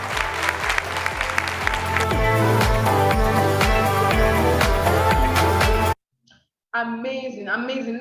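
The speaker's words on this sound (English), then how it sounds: "Let's give Alliance Emotion Global Inc. a big round of applause, please." A big round of applause from the audience at a corporate event, loud clapping over booming background music and a voice exclaiming, then cutting briefly to silence before quieter sound resumes.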